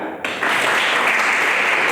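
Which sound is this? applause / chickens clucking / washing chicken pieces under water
applause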